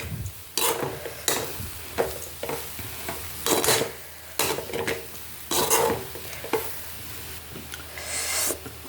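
Puffed rice upma stirred in a pan, with repeated rhythmic scraping strokes of a spoon against metal over a soft background sizzle, close and fairly loud.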